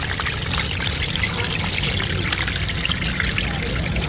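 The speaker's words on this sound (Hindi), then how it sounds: "नलका हम बहुत आहिस्ता चला रहे हैं मगर इसमें पानी जो है वो बहुत तेज़ आ रहा है" Tap water gushes strongly under high motor-driven pressure while rice is washed, a loud, steady, broadband rush with no breaks and no voices.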